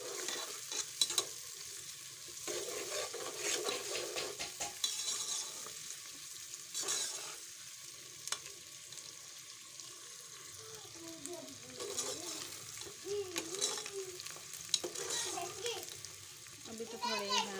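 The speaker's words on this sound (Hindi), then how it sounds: "इसको सही तरह डार्क ब्राउन करना है प्याज को।" Onions fry in a pan, being browned until dark for a chicken korma, with a soft continuous sizzle and repeated spoon scrapes and clinks up close, while someone talks and children's voices drift in the background.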